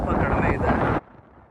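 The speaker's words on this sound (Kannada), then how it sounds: "ಹೆವಿ ಗಾಳಿ ಬೀಸ್ತಾ ಇದೆ ಮಾತ್ರ." Strong wind gusting near the Hampi dam backwaters, a loud broadband roar buffeting the microphone for about a second before it abruptly drops to a quieter hiss.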